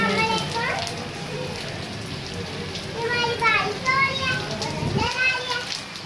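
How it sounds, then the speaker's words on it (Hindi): Heavy rain driven by strong wind makes a steady hiss with gusty swells, while children's voices chatter and call nearby over it. "हवा के की वजह से ना बारिश बहुत तेज़ हो रही है।"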